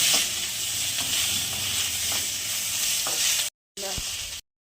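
Ginger, green chili and tomato fry in a pan for a vegetarian potato and ridge gourd curry, a steady loud sizzle with occasional stirring scrapes, cut briefly by silent gaps near the end.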